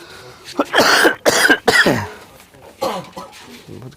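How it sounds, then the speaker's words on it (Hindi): During a Class 10 maths lesson, a man's harsh cough comes in a quick cluster of bursts close to the microphone, followed by a couple of softer throat sounds. "खांसी"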